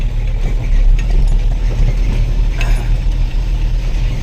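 A vehicle jolts along a rough, potholed village road in Arunachal Pradesh, with a constant low rumble, mechanical rattling and clicking throughout and no voices.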